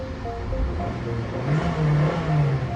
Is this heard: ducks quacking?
no